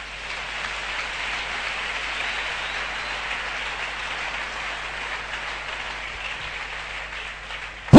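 A church congregation bursts into sustained applause acclaiming the Lord, a dense, steady roar of many hands clapping from start to finish, ending with a sudden louder hit.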